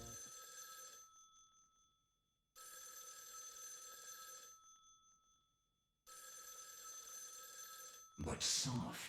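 A phone booth telephone in Raidou Remastered, set in Harumi-cho, rings in three loud, even bursts of an old-fashioned bell, each lasting about two seconds and separated by near silence, followed at the end by a short, harsh noisy burst.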